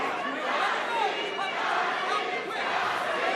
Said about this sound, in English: You hear the crowd in here just going crazy for Ramos.